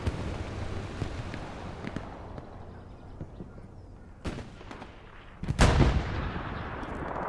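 Strafing run by aircraft gunfire in Hell Let Loose, heard as a continuous distant rumble of battlefield fire that swells into a loud, close burst of heavy gunfire near the end.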